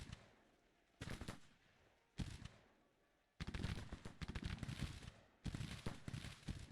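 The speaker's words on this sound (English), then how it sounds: "Even just one good volley at them was pretty good." Musket volleys from Civil War infantry in the strategy game Grand Tactician crackle in dense, ragged bursts, four separate rolling fusillades broken by quiet gaps, with no talk.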